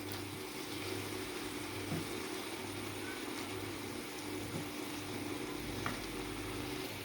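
Mixed vegetables being fried in a pan for a dhaba-style mixed veg curry, giving a steady, soft sizzle that runs the whole time beneath a low background hum, with no talking.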